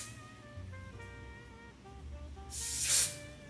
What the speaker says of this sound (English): I'm gonna spray a little bit of this adhesive spray right here.